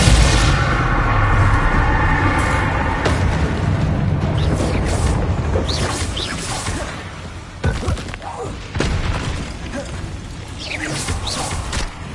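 Confringo spell explosion in the Hogwarts Legacy video game: a heavy booming blast with rumbling thuds and debris, followed by further muffled impacts and crackling over several seconds.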